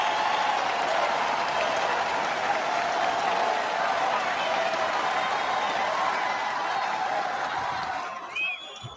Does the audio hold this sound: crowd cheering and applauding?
yes